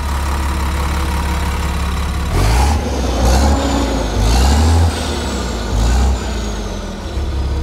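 A 2004 National Islander Country Coach diesel pusher motorhome with a 400 HP engine on a Dynomax chassis drives along, its deep steady engine drone swelling in several repeated surges as it accelerates, heard from inside with no talking.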